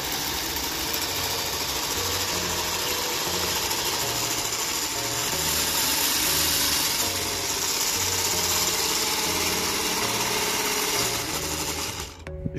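A homemade electric paddle board's direct-drive motor runs steadily, spinning an aluminium transmission tube held in a bearing, giving a loud, continuous mechanical whir with a rapid rattling, ratchet-like clatter throughout, cutting off near the end.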